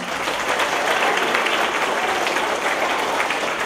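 Audience at a school event applauds fifth-grade science students, a full, continuous roar of clapping from many people that stays loud and unbroken for the whole stretch.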